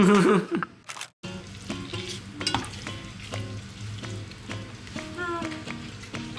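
Dried chilies stir-fried in a pan sizzle loudly and continuously, with scraping utensil strokes repeating throughout and a brief pause early on.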